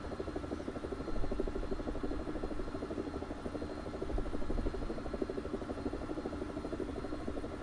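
Steady, droning rotor and turbine noise from an Mi-28 attack helicopter in the combat game War Thunder, a continuous mid-level whirr with no talk.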